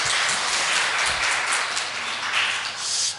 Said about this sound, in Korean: 하나님께 아름다운 찬양을 올린 우리 중창단에게 큰 격려의 박수 부탁드립니다.